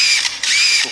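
A mimicking bird imitates a camera shutter with a couple of quick, bright clicking bursts, loud and close, with no talking over it.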